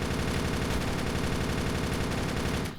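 MG240 machine gun in the shooter game Darkest Days spraying a sustained, loud, close-up stream of rapid automatic fire for nearly three seconds before stopping, with no talk over it.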